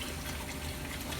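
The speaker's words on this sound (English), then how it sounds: "And then of course you rinse it with your warm water." Warm tap water running steadily into a sink while dishes are rinsed, a continuous broadband rushing wash with a low pump-like hum, close and even throughout, no voices.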